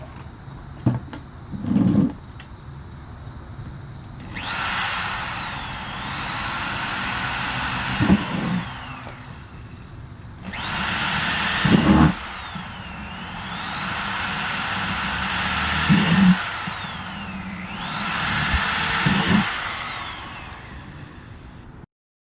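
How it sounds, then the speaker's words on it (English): A power drill bores holes around the top and bottom of a plastic cat litter bucket being made into a backyard compost bin. Four or five separate whirring bursts rise and fall in pitch, loud and close, with short pauses between them. "I'm going to drill some holes around the top to let some air in"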